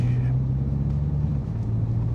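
A Mini Clubman John Cooper Works 306 in sport mode, its engine a steady low drone heard from inside the cabin, with a mild change in pitch partway through and no talk.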